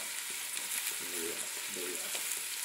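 Onion, ginger and garlic frying in a pan give a steady, hissing sizzle throughout, with faint voices briefly under it, heard close but at modest volume.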